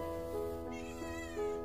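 A fat white house cat meows in a few short, close calls over a steady tonal background hum.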